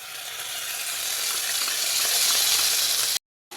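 Ginger and green chilli paste frying in hot oil, a dense continuous sizzle that swells slightly before cutting off abruptly near the end, with no talking.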